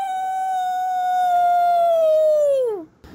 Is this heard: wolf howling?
yes